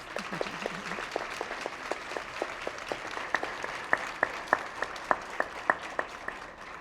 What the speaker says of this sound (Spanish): Un aplauso para Anabel Hernández.